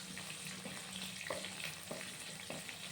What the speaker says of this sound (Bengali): দিয়ে আবার নাড়াচাড়া করে নেব।